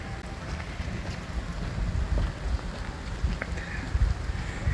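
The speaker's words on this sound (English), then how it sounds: "can you stop the rain please, because it's freaking annoying" Rain and wind sweep across an open waterfront at Cardiff Bay, a steady broadband wash of rainfall and gusts buffeting the microphone, with no voices.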